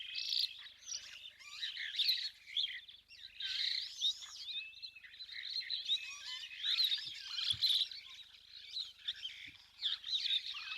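Kenyan starlings at a waterhole give a busy run of chirps, whistles and tweets, layered and continuous at moderate distance, with a few low soft knocks and no talking.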